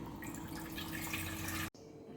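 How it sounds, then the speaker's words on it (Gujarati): A kitchen tap runs into a clay water pot, a steady close stream of filling water that cuts off abruptly near the end, with no one talking. "પાણીની માટલી ભરવી છે તો નળ ચાલુ કરી દઈએ તો ભરાઈ જાય"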